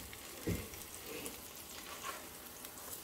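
Stuffed potato croquettes fry in oil in a pan, giving a soft steady sizzle with a brief clatter as they are turned, quiet and without talk.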